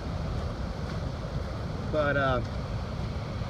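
Water pouring over the spillway of the Kerr Scott Reservoir Dam on the Yadkin River, a steady broadband rush with wind buffeting the microphone and a brief spoken word midway.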